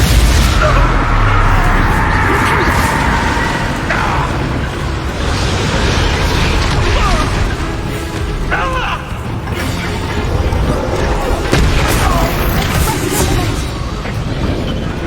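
Repeated Confringo fire-spell blasts in the Hogwarts Legacy video game, a dense, loud run of booming explosions and crackling bursts layered over combat noise without pause.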